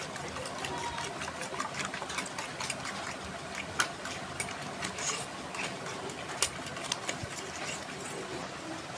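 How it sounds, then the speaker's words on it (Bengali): Eggs beaten by hand for khichuri on a rainy day, a rapid irregular ticking and tapping with occasional sharper clicks over a steady background hiss of rain. "ডিমটা এখন ফেটে নিব।"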